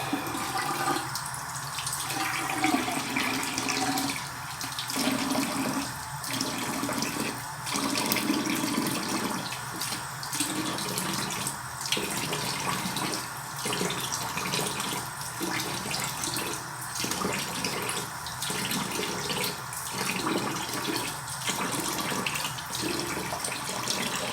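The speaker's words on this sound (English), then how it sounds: "the water's running right down my elbow into the floor" Water runs steadily from a tap into a sink, a continuous splashing rush with faint irregular dips throughout, close and fairly loud.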